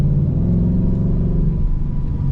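A 2025 Ford Mustang GT pulling away, its engine note a loud, steady low rumble that builds throughout, close and alone with no talk.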